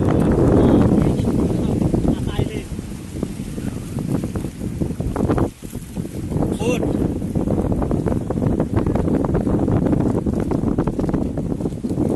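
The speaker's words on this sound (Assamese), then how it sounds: "ইয়াত কি বৰে বতাহ দিছে" Strong wind roars across the open sea on a boat ride near Elephanta Island off Mumbai, heavy gusty buffeting on the microphone that carries steadily throughout with a brief lull midway.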